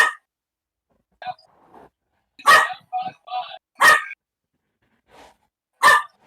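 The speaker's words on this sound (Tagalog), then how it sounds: "Ang galit yung aso ni Macdo" An angry dog barks in sharp, separated bursts, several loud barks and a few quieter yips spread across silence, close to the listener.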